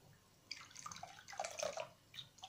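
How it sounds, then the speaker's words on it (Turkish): Warm syrup dripping and trickling slowly from a ladle onto a tray of carrot-slice baklava, soft irregular splashes and drips up close, no talking. "Kepçeden ağır ağır dökülüyor."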